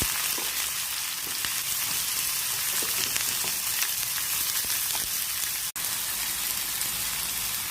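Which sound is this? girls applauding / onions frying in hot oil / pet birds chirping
onions frying in hot oil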